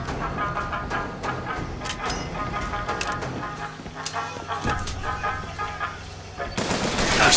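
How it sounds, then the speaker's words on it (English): Rapid machine gun bursts from the video game Bioshock Infinite crackle in short volleys, loud and close, with gaps and scattered single shots between them. "your machine gun's not enough to defeat me"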